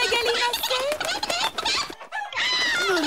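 Cartoon chickens cluck in a quick, busy run of squawky calls alongside cartoon voices, with a short gap before the clucking resumes, close and loud.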